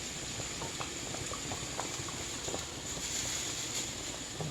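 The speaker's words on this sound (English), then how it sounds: "we're just going to put that on low and let that simmer" Sauce simmers on low heat in a pan, giving steady, soft bubbling with scattered small pops and a constant faint hiss throughout.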